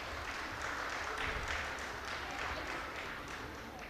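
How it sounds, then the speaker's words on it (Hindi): At a school annual function, an audience applauds young child performers: a broad, steady roar of clapping filling the hall, fairly distant and even, easing slightly toward the end. "जोरदार तालियां इन नन्हे मुन्ने कलाकारों के लिए।"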